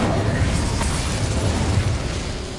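A fiery blast from the Incendio spell in Hogwarts Legacy, a loud, sustained roaring burst of flame that fills the clip with dense low rumble and crackle, with no voices over it.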